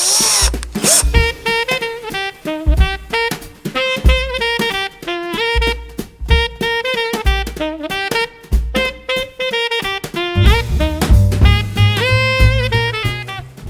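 Power drill boring a hole during a Christmas decorating build, the motor whining in repeated short bursts with pitch rising and falling as the trigger is squeezed, loud and close, then a longer steadier run near the end.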